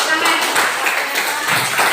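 Brief classroom applause from a group of students, a dense, close flurry of clapping lasting under two seconds.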